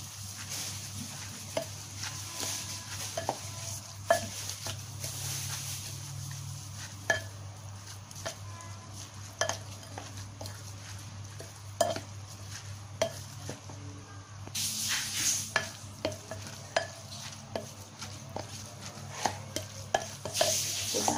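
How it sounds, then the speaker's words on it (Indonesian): Food stirred in a frying pan, with irregular scraping and tapping of a utensil against the pan over a faint steady sizzle and background hum, fairly quiet throughout. "lalu kita aduk-aduk"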